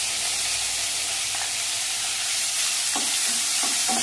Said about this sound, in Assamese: 2-3 মিনিটমান সময় মই পিঁয়াজ, আদা, নহৰু পেষ্টটো ভাজি ল'লোঁ